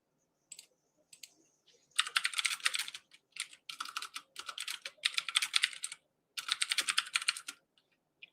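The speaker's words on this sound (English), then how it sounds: "Sorry, my keyboard's so loud." Rapid, clattering keystrokes on a computer keyboard come in dense bursts with short pauses, loud and close, with no talking.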